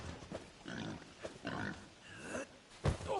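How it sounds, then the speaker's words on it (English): Pigs in the video game Dragon's Dogma grunt and oink over several seconds in a quick run of short snorts. One sharper squeal stands out near the end, heard at moderate level against a faint background. "Bully the pigs!"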